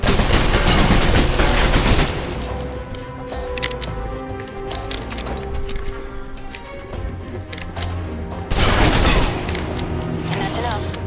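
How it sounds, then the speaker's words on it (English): Submachine gun fire in the action game Alpha Protocol, loud rapid bursts of automatic shots at the start and again near the end, with quieter game sound and a voice between. "If you're trapped in close quarters with multiple opponents, the SMGs can help clear the room quickly"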